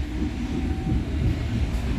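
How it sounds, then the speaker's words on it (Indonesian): A local passenger train pulls into Padalarang station in Indonesia, a steady low rumble of wheels and carriage noise filling the scene close by, with a faint squeal and no talking. "kereta api lokal yang saya naiki sudah tiba dan berhenti di stasiun Padalarang"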